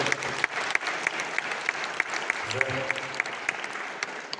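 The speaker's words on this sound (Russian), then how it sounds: "Ваши бурные аплодисменты, дорогие гости, дорогие друзья" Applause from a concert audience at a Buryat folk song performance with guitar, a steady patter of clapping at moderate distance, fairly quiet and continuous.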